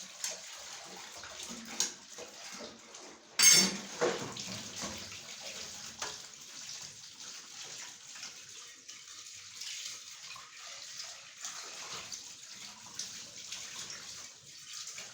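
Dishes being washed under a running kitchen tap, a steady splashing water stream throughout with occasional clinks and a louder splash near the start, close and moderately quiet, no talk.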